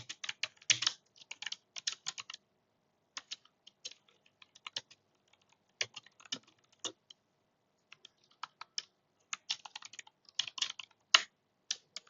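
Java code typed on a computer keyboard: irregular bursts of crisp, close key clicks with brief pauses between runs, no talking.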